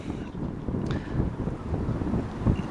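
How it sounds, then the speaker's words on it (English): Strong outdoor wind buffets the microphone during a magnet fishing outing, making a continuous low rumbling roar that swells and dips unevenly throughout, with no voices. "But it's so windy out here right now"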